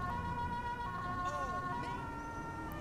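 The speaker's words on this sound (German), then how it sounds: "Ist halt quasi die Sirene." A police car siren in the video game GTA 5 wails in rising and falling sweeps over steady engine and road noise, fairly close and continuous.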